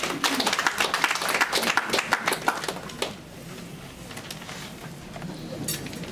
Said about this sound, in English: Can we give her a hand of applause?